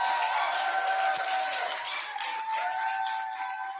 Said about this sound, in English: let us offer former President Kim our most heartfelt gratitude and respect with a thunderous round of applause